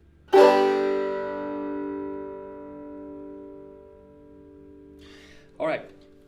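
A single Deering banjo strum rings out brightly and decays slowly over several seconds, followed by a brief second plucked note near the end.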